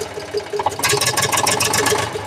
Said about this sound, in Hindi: ट्रैक्टर को मैंने काफ़ी रेस किया है